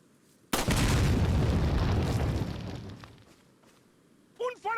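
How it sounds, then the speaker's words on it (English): A single loud bomb blast from Resident Evil 4 Wii Edition bursts suddenly and rumbles away over a couple of seconds, followed by a short voice at the end. "Here, have some bombs."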